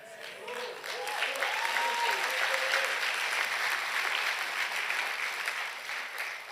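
A church congregation applauds during a worship service, a dense and sustained wash of clapping from many people that swells in and holds steady, with a brief voice at the start.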